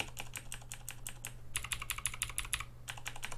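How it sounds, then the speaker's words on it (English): Rapid typing on a compact tenkeyless mechanical keyboard with blue clicky switches produces a steady stream of sharp, crisp clicks, close and alone, with a short pause before a fresh flurry of keystrokes. "These blue clickies are loud."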